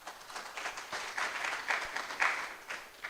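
An audience at an inaugural university lecture claps briefly, a soft, distant patter of many hands rising and falling for a few seconds.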